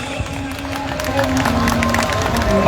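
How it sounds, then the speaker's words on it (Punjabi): Devotees clap in rhythm at the Lakh Data Pir shrine fair on Garhshankar Road in Nawanshahr, a steady beat of many hands mixed with crowd murmur and a voice over the top. "ਤਾੜੀਆਂ ਮਾਰ ਦੋ ਭਗਤ ਜਨੋ"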